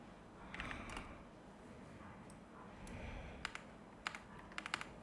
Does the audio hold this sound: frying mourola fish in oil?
no